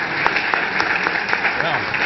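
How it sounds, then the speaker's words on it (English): A panel-discussion audience gives Judge Abner Mikva a round of applause, a dense, steady clatter of many hands clapping that fills the room throughout. "And another round of applause for Judge Mikva."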